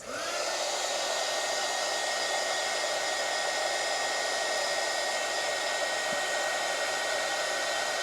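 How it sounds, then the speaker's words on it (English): A heat gun blows steadily over a freshly poured resin frog, giving a loud, constant whooshing roar with a faint whine that holds for the whole stretch and has no talk over it. "I'm going to put a heat gun on that real quick."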